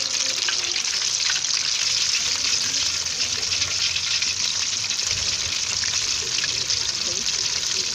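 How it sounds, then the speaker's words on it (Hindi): Chicken leg pieces frying in hot oil for KFC-style chicken, a steady, loud, continuous sizzle with light bubbling throughout. "ऑयल हमने तेज़ गर्म कर लेना है और जब हमने लेग पीस डालने हैं 2 मिनट के बाद हमने आग को बिल्कुल हल्का कर देना है।"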